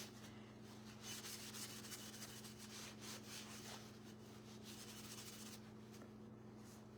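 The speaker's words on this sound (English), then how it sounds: "come back with a clean cloth and rub some of that dust off" A clean cloth rubs dust off a painted thrifted glass bottle being aged to look like a pottery jar, giving a steady soft scrubbing swish that runs throughout over a constant low electrical hum.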